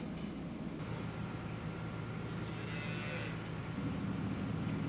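Dairy cows on a farm low for their calves in drawn-out moos, heard at a distance under a steady, dense wash of background noise.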